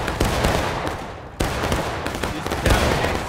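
Massed musket volleys in the War of Rights game, an American Civil War battle event with Confederate 8th Alabama troops, crackle in dense, rolling bursts, with sharp new volleys breaking in around one and three-quarter seconds apart.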